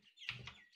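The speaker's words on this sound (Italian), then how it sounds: "Dov'è l'uccellino qua?" In the video game Martha is Dead, a single bird gives a soft, brief chirp, faint and close against a quiet background.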